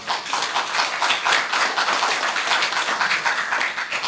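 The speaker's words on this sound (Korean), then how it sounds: "반성하는 의미로 크게 박수를 한번 쳐보세요" A large audience at a Korean vision-declaration ceremony claps loudly and continuously, a dense, sustained patter of many hands filling the whole stretch without speech.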